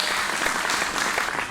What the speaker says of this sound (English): another big round of applause for Anthony